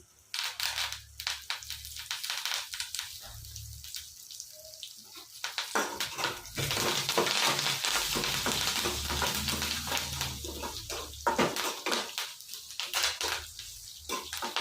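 Curry leaves dropped into hot oil for drumstick sambar, wedding-house style, burst into loud, close, crackling sizzling that swells and keeps spitting for several seconds, with no talk.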